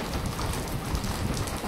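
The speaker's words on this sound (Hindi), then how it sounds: "यहाँ पर बारिश इतनी तेज थी कि मैं तो अंदर आ गई" Heavy monsoon rain pours down outdoors in Jaipur, a dense, loud, continuous roar of drops hitting surfaces with no speech.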